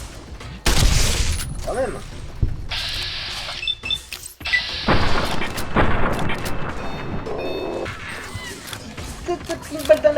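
Fallout New Vegas gunfight with loud repeated gunshots and impacts in uneven bursts, mixed with game effects and a brief spoken remark.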